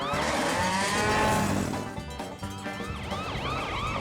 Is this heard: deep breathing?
no